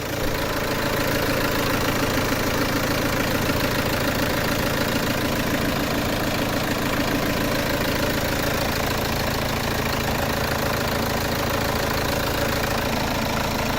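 A Peugeot 307 2.0 HDI diesel engine with a fault runs at idle, a steady, loud, close mechanical clatter and hum that continues unbroken with no voices.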